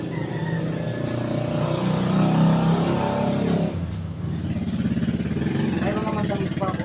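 A motorcycle engine hums and revs close by, a loud, steady engine drone that drops in pitch midway and settles into a lower idle, with someone talking over it throughout.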